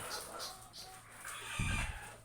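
Egg-laying hens kept as pets cluck faintly in the background, with a few short, soft calls and a brief low thump near the end.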